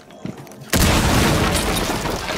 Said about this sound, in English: Fire explosion